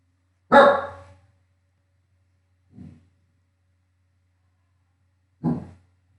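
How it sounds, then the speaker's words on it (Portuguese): Dogs bark in the distance: one loud bark, a faint short one a couple of seconds later, then another clear bark, separated by silence. "Os cachorros estão bem agitados hoje."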